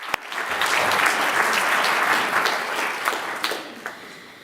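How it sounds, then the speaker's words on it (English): Audience applause at a climate action assembly, a dense, steady wash of many hands clapping at moderate volume, tapering off toward the end. "please give them a round of applause"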